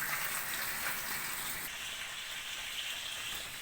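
An outdoor shower on a Shetland 4+ boat runs as a steady, fairly close spray of water, a constant rain-like patter throughout.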